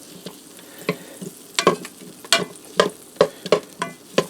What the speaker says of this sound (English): I'm going to add 2 tablespoons of butter in. And I'm going to stir that around and let that melt for a second.